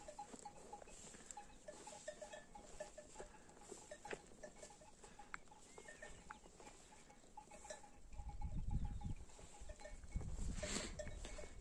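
Sheep graze in a field, with soft tinkling bells and an occasional distant bleat, and louder rustling near the end.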